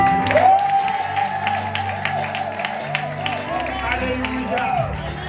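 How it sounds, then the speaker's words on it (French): A standing church congregation applauds and cheers, with steady clapping under a sustained musical tone and crowd voices, continuing evenly throughout. "Tenez-vous debout, on va acclamer Dieu pour vous."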